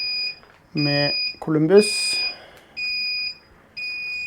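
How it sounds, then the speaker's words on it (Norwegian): Repeated high electronic beeps from a brewing kettle signalling a boil sound in steady bursts with short pauses, while someone talks between them. "Der piper det. Nå sier den at det koker"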